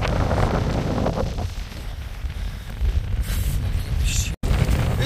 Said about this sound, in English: The wind is so strong that I can barely push my bike.